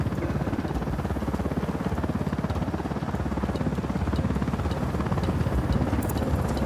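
Helicopter in the Tom Clancy's Ghost Recon Wildlands video game, a steady loud rotor thump with engine drone running throughout without pause, no talk over it.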